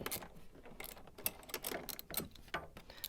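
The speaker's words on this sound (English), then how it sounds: "Come in with your wrench. Tighten the jam nut." A wrench tightening a jam nut on a propane conversion kit for a Harbor Freight Predator 3500 generator gives a steady run of close ratcheting clicks and metallic mechanism noise, with no talking.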